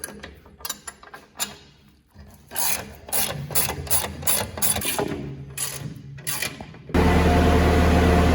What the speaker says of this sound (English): now we're tightening up the hardware